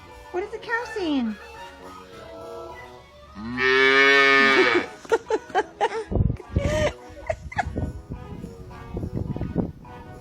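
A cow moos loudly in a long drawn-out call near the middle, with people talking and laughing around it before and after.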